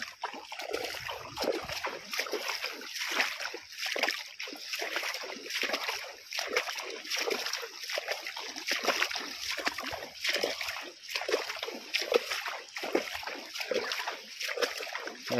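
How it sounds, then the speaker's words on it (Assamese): Budhi Dihing river floodwater rushing past a village, a steady, close churning wash with continuous splashing and sloshing that never lets up. "আমাৰ বুঢ়ী নদীৰ পানী এনেধৰণে বৈ আহিছে"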